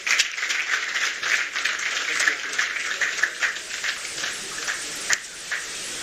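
A steady wash of audience applause from a seated crowd at an ECOWAS official launch event for a biometric identity card in Nigeria, fairly loud and continuous with scattered sharper claps and no distinct voices.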